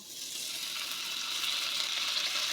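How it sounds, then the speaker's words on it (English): Butter sizzling in a pot, a steady, soft hiss of frying that holds evenly throughout with no talk over it. "I'm going to start with adding butter"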